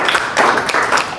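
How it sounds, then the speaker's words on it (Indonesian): A classroom group claps for a student who has just finished reading, a short, loud burst of many hands beating in uneven pulses over about a second. "Kita beri tepuk tangan sekali buat Michelle"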